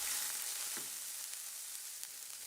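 Onions sweating in a pan over low heat give a soft, steady sizzle, a continuous faint hiss with a few small pops, no voices.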